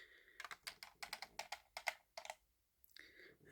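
Loose keys pulled off a Korg Kross-2 88-key keyboard being picked up, a quick cluster of light plastic clicks and clacks close by, then a short pause and one more rattle.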